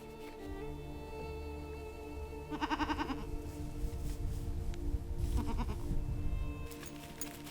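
Dairy goats on a small farm bleat in a few loud bursts, with one call around the middle and more overlapping calls later, over a steady low background hum.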